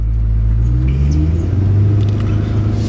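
A 2021 Corvette Stingray convertible's engine and exhaust rumble loudly and close while driving, with a low droning tone that rises gradually as it pulls ahead.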